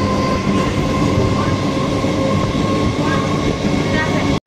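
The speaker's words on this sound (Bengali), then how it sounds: "ট্রেন তার স্বভাবসিদ্ধ ভঙ্গিমায় গতিপথ ধরল" A train rolls steadily along the rails with a dense, continuous rumble and rattle, loud and close, ending abruptly.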